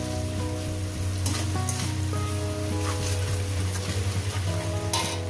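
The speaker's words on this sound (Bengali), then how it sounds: "দিয়ে এটাকে আমি মিনিট দুয়েক করে পেঁয়াজটাকে আমি ভেজে নেব" Chopped onions fry with salt in a pan, a steady sizzle with occasional stirring, beneath louder background music.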